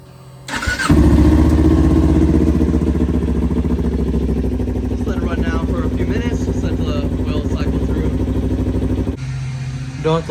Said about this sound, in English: you want to just start up the bike and let the oil kind of just circulate throughout the engine